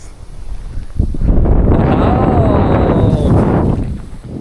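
Strong wind sweeps across a lake shore during fishing, a loud, steady buffeting roar against the microphone that swells and holds for a few seconds with no talking.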